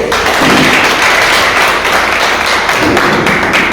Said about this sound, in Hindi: जोरदार तालियों के बीच बुलाने जा रहे हैं एक बार फिर से मिस्टर त्रिभुवन जी